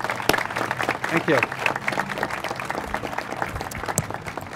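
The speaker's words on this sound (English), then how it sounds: "Let's give a round of applause to Station 22, guys." A crowd applauds a fire station crew at the opening of a new fire station in Point Loma, with scattered clapping that runs steadily under someone speaking.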